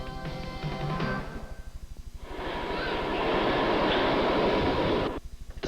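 Train-arrival sound effect in a Subway restaurant radio advert: a rhythmic mechanical chugging that swells into a loud rushing roar, holds for a few seconds, then cuts back to the chugging.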